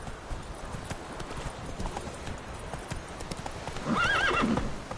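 Horse hooves clip-clop steadily on the ground, close and moderately loud, with a horse's neigh rising near the end; no one speaks.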